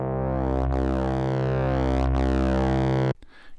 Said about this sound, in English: you can decide how sharp or how harsh this distortion actually is